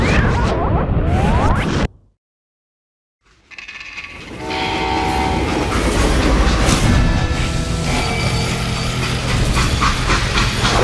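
Freight train in the western game Call of Juarez: Gunslinger: a brief burst of rumble, then a gap of near silence, then a loud, steady rolling clatter with squealing metal and horn-like tones.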